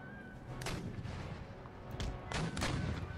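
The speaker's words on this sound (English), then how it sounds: "artillery's opening up on their artillery" Artillery booms in Empire Total War battle: several scattered cannon blasts, fairly distant and muffled, thud out at irregular intervals over a dense rumbling battlefield background, with no talking.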